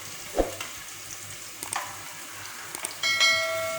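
Spice paste for bagara baingan tipped into frying masala in a pan: a soft thud, scattered clinks and stirring, then sizzling that grows louder and steadier near the end, close by with no talk.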